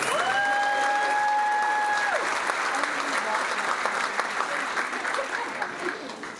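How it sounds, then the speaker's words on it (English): An audience at the Maid of Petroleum beauty contest breaks into loud applause and cheering for the contestants. A sustained whistle-like tone sounds at the start before the clapping carries on and slowly eases. "Let's have another round of applause for all the contestants."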